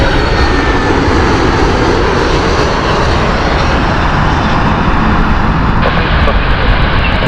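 Edinburgh shuttle airliner flying in to land at Heathrow Airport on a misty day, its steady jet engine roar filling the air loud and continuous throughout.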